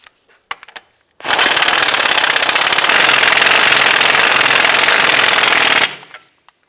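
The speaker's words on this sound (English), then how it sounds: "Let's go ahead and install our axle nut," An impact tool rattles loudly on the axle nut of a 2006-2011 Cadillac DTS during a CV axle shaft replacement, one steady hammering burst of about five seconds, close up, with a few faint clicks before it.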